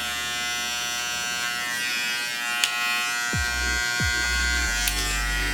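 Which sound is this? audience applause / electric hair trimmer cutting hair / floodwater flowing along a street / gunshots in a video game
electric hair trimmer cutting hair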